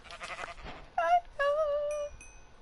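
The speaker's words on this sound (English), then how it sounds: "is that sheep?" Sheep bleat in a survival video game, two clear wavering calls in a row, the second longer, with a faint third note trailing off after a brief rustle.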